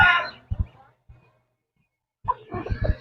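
Black Australorp chickens clucking in short bursts, with a quiet gap between them and a cluster of nearby clucks at the end.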